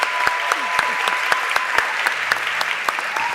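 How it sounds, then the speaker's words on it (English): An audience at a startup conference in Madrid claps for the event's moderators on stage, a steady patter of applause with a few sharp, distinct nearby claps standing out, and no voices over it. "Could we just give them one more round of applause now that they're on the stage?"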